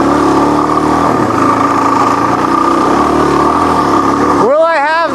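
A Suzuki DRZ400 dirt bike drones loudly and steadily on an off-road OHV trail, then briefly revs up and down near the end, close to the rider.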